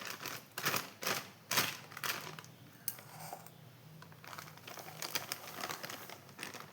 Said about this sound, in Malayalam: ഈ കടലപ്പൊടിയെല്ലാം ഞാൻ ഇടുന്നുണ്ട്.